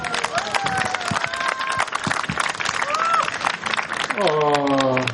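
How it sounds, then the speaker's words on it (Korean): Audience applause at a talk event on labor layoffs, a dense clatter of clapping running throughout beneath a speaking voice, with a sustained tone entering near the end. "이렇게 힘차게 박수도 좀 쳐주시면 좋겠어요"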